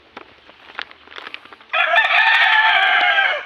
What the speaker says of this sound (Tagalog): daghan diri mga manok.